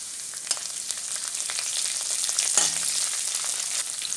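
Curry leaves fry with ginger and garlic in a pan, giving a soft, steady sizzling hiss with scattered small crackles and one brief clatter. No speech is heard.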